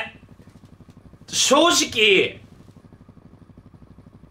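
In Mario Kart 8 Deluxe, a kart engine putters with a steady, pulsing idle, and a burst of speech briefly rises above it midway.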